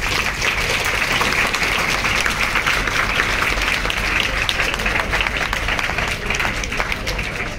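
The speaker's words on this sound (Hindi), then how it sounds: "अब सबके लिए तालियां बजाएं।" A school audience claps for student mime performers in dense, sustained applause that fills the room evenly for several seconds without pause.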